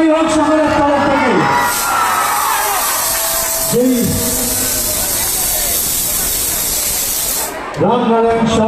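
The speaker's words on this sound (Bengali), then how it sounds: "একবার জিদ্দার জন্য জোরে হাততালি হোক সকলের তরফ থেকে।" A crowd claps and cheers for actor Jeet at a traditional household Durga Puja in Budge Budge, making a dense, hissing roar throughout. An announcer's amplified voice breaks in over it several times.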